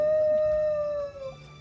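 A dog howls close by: one long, steady, clear howl that fades after about a second.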